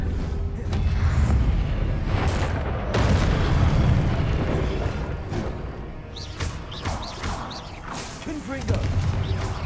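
Confringo fire spell blasts in Hogwarts Legacy, loud booming explosions rolling through dense game combat with crackling bursts and whooshes, continuous and near.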